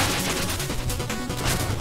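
Bombs going off in the retro platformer Shovel Knight, a dense run of crunchy blasts and crashes over game music, loud and close with no pause.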